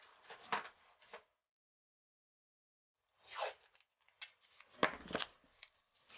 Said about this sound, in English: What I'm going to do is take a little bit of blue tape